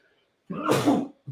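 A single sharp human sneeze bursts out close and loud outdoors on a windy New York street, followed by the start of someone speaking right after.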